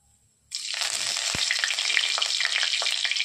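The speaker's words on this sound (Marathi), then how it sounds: "आता टाकत आहोत आपण जिरे। तेल गरम झालेलं आहे आपलं।" Cumin seeds and curry leaves dropped into hot oil for a green bean and potato dry sabzi burst into a sudden loud, close sizzle after a quiet start, crackling and spluttering steadily to the end.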